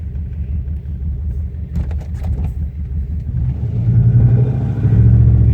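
A 2002 Dodge Durango with the 4.7L engine and 4x4 idling roughly, a loud low uneven rumble that swells toward the end as the engine picks up slightly, no voices.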